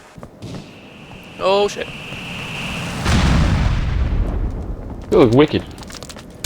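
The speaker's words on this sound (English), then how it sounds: "So apparently, I'm getting shot at." Gunfire and explosions in Helicopter Warfare 2 come as a broad rumbling blast around mid-clip and a sustained roar under the action, while a voice talks excitedly over the game audio.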